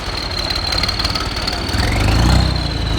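A nearby tractor engine runs with a rhythmic knocking idle at a village trolley-pulling contest, then revs louder and deeper toward the end, with no talking.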